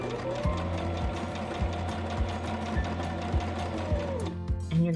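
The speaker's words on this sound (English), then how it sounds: "you're going to sew all the way down to that crease" A home sewing machine runs a quarter-inch seam on a fabric dog bandanna, its needle thumping in an even, rapid rhythm close to the mic before the stitching stops near the end.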